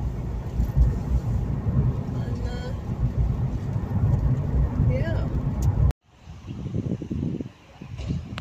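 Car traffic on a main road overhead on a wet day, a steady low rumbling wash of passing vehicles that cuts off abruptly and resumes more faintly, with people talking over it.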